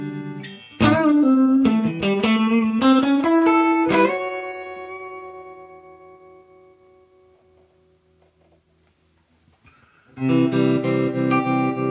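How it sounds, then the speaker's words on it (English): An electric guitar plays a short run of notes through a Fender Deluxe Reverb Tone Master amp with vibrato on, a held chord rings and decays, then another chord strikes loudly. "if I use the vibrato, it's really nice. It's a really nice vibrato. It's got different speeds."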